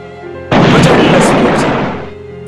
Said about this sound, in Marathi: एका आवाजाचे ग्रेनेड पोलीस स्टेशनच्या दिशेने फेकण्यात आले